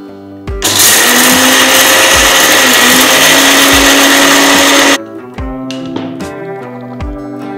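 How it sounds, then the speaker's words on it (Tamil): A mixer grinder roars loudly for about four seconds grinding roasted spices for Andhra-style idli podi, then cuts off, followed by clattering and knocking as the jar settles. "இப்போ மிக்ஸி ஜாரில் போட்டு அரைச்சி எடுத்துக்கலாம்."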